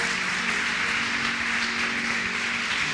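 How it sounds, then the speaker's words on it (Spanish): A congregation applauds for the Lord during a Spanish-language church service, giving steady, dense clapping that holds at an even level for the whole stretch, with no speech over it. "Dale un fuerte aplauso al Señor."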